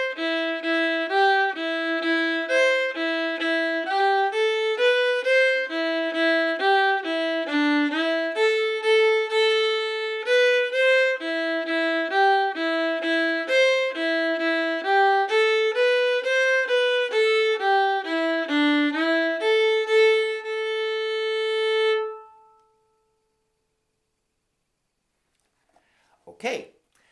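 Irish fiddle plays the A part of the reel Geese in the Bog, a steady run of bowed melody notes at lesson pace, close and clear, stopping at about 22 seconds. A brief faint knock follows near the end.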